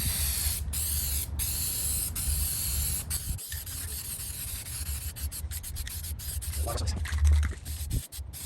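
Spray paint hisses in a string of short bursts as a light coat goes onto the inside of a vintage Motorcraft shop clock, with brief gaps between passes and some rubbing handling noise, heard close with no talk.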